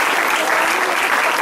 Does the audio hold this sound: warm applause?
yes